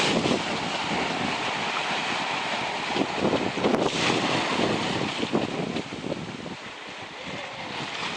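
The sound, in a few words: sailboat sailing at sea with wind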